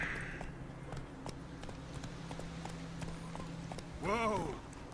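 Galloping hoofbeats of Roach, the horse in The Witcher 3, thud in a fast even rhythm up close, with a loud rising-falling neigh near the end and a voice briefly over it.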